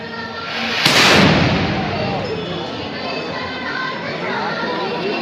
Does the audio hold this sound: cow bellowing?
no